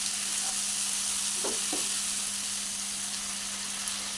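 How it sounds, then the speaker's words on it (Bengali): Mutton masala sizzling in a pan as water goes in, a steady frying hiss with a couple of brief scraping or splashing bursts, close and continuous, with no talking. "এবারে জল দিয়ে দিলাম।"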